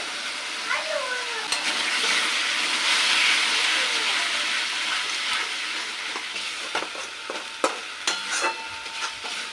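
Spice paste with salt, turmeric and chili powder frying in a pan for an egg and ridge gourd curry, a loud steady sizzle with occasional scraping stirs and sharper clicks toward the end.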